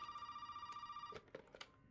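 A telephone rings in a video game with a trilling electronic bell that repeats rapidly for about a second before cutting off, followed by a few soft clicks, quiet and alone.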